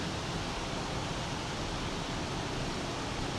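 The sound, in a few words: highway traffic passing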